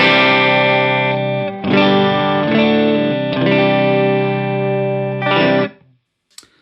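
Electric guitar played through a NUX boost pedal into an amp, dry with no delay, sustained distorted chords ringing in several strummed phrases before cutting off into silence with a brief click.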